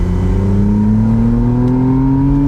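A 2025 McLaren Artura Spider's 3.0 L 120-degree V6 accelerates hard, its engine note climbing steadily in pitch, loud and close from inside the car with no talk.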